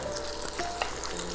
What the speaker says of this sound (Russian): И также жарим 2 яйцо.